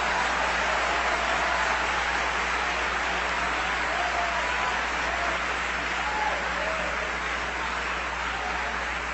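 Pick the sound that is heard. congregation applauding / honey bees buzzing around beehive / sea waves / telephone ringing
congregation applauding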